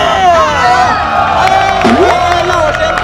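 Loud crowd cheering and whoops greet a special guest on stage, mixed with sustained tonal voices or music. Distinct clapping is hard to pick out.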